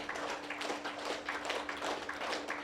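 Gentle, rhythmic clapping by a group standing at the close of an Om chanting meditation session, soft, steady, and continuous, with a faint sustained tone beneath.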